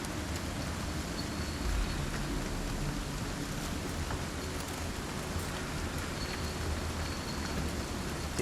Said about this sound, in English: You hear the wind? I hear it, even the creaking.